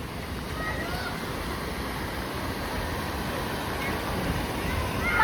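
Floodwater washing and splashing around a car on a flooded road, a steady broadband rush of moving water with wind noise, building slightly louder toward the end, with no talking.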